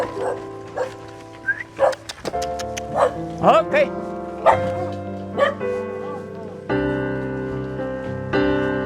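A dog yips and barks in short, bouncy bursts in front of a house in a rural Philippine town, repeated over about nine seconds beside sustained music, with a brief spoken word.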